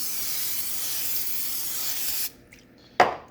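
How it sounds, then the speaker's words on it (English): A steady cooking spray hisses onto a pan for about two seconds, close and loud, then stops, followed by a short sharp clack. "we're going to spray the pan."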